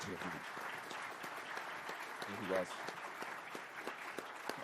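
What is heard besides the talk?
audience applause for Medal of Honor recipients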